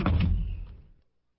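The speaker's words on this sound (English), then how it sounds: "Toad ran home and slammed the door." A door slams shut with a single heavy thud at the start, its low boom decaying over about a second into silence.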